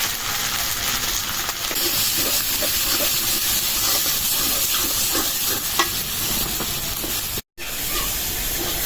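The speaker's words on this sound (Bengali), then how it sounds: "মশলাটা একদম ভাজা ভাজা হয়ে গেছে" Spices with salt and turmeric, green chillies and onion sizzle and fry in a pan, a steady loud hiss with occasional stirring scrapes and a brief drop near the end.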